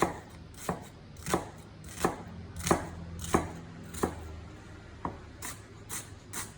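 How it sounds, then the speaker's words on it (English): A knife slices spring onions on a cutting board in about ten evenly spaced, crisp chops, close and steady, with a brief pause before a last quicker pair and no talking. "And spring onions are very fun to slice."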